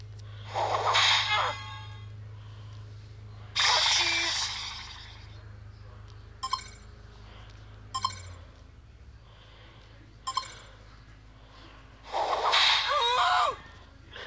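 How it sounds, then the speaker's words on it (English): Sneeze attack effect from the Pocket Mortys video game, a burst of breathy gasping and snorting noises that returns several times with short clinks in between, with a person talking during parts of it. "Let's do sneeze."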